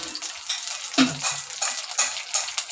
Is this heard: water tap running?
no